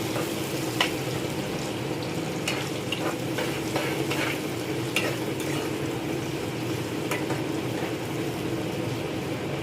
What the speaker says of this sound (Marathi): आणि कांदा आपल्याला तेलामध्ये छान असा गुलाबी रंगावर परतून घ्यायचा आहे।